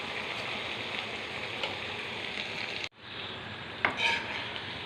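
Duck meat frying in oil and being stirred in a pan, a steady close sizzle with a brief break and the scrape of a utensil against the pot near the end, no talk.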